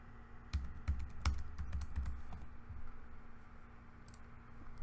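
Computer keyboard typing as a case name is entered into legal case-management software, a burst of quick crisp key clicks at close range, then quieter sparse taps, with no talking.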